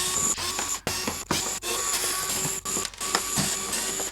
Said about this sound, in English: First thing that we need to do is remove all the screws on the bottom of the toy.